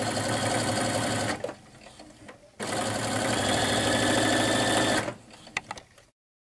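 A domestic sewing machine stitches the pocket of a retro schoolgirl dress in loud, rapid mechanical bursts, with a brief slower stretch between runs, then fades to silence at the end.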